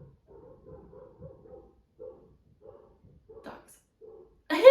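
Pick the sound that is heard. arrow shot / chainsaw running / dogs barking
dogs barking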